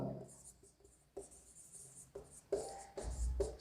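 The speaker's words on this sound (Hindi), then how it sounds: "मैं यहां पर लिखता हूं" Handwriting strokes during a chemistry lesson on redox reactions, scratchy bursts of pen or marker on a board in short strokes, heard alongside faint speech.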